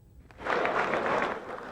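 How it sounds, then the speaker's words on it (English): A round of applause for Mikhail Gorbachev in Boris Yeltsin's Russian parliament in 1991, steady massed clapping from a large crowd that swells quickly and holds for over a second. "When Mikhail Gorbachev visited Boris Yeltsin's Russian parliament, he got a round of applause at first"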